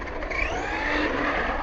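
An Arrma Outcast 4S V2 RC truck with a 4S 2400 kV brushless setup drives steadily, its motor giving a continuous high-pitched whine with a broad rushing noise. The sound stays close and even, with no talk.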